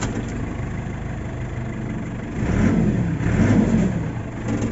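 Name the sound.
JCB machine engine running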